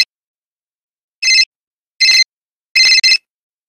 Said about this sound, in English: Honey, your phone's going off.